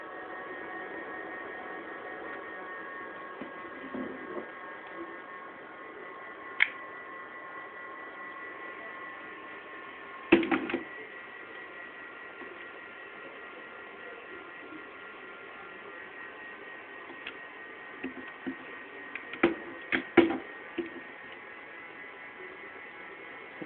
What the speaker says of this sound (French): c'est le bruit du lecteur DVD qui s'est activé.